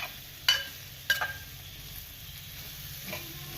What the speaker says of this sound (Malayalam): ഇതിങ്ങനെ നമ്മൾ വാട്ടിയെടുക്കണം.